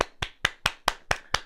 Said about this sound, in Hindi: तालियां बहुत